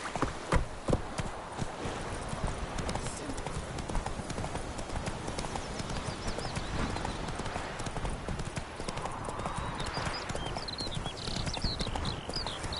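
Roach the horse gallops along a road in The Witcher 3, steady rhythmic hoofbeats clopping close and loud for the whole stretch, with ambient game sound underneath.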